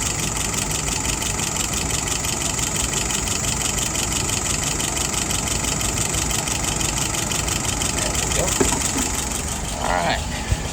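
A car engine idling near 640 RPM with the speed nudged slightly upward, a steady close-up mechanical hum throughout, with faint clicks toward the end.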